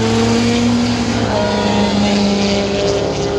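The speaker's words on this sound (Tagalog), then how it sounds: "Ang bilis, mga sasakyan pala yun." Cars speeding past on a highway heard from below the roadway, a loud continuous engine and tyre roar with a rising then falling pitch as vehicles pass close by.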